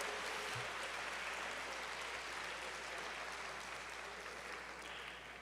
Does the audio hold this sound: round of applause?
yes